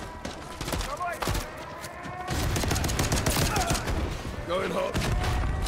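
Heavy gunfire in the Call of Duty MW3 campaign, bursts of rapid shots and thumping blasts coming thick and loud over battle noise, with voices calling out in the middle.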